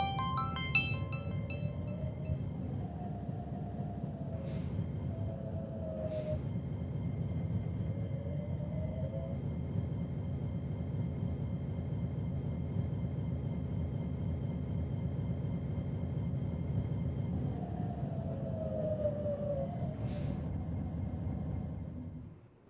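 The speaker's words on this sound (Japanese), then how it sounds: "まもなく臨時列車が到着します。" A train pulls into a station in the Minecraft game, a steady low rumbling drone with a few brief electronic chime tones and sharp clicks heard over it.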